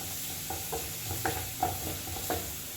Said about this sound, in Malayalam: മാറ്റി വെച്ച കുരുമുളക് പൊടി ചേർത്തിട്ട് നന്നായി ഒന്ന് ഇളക്കുക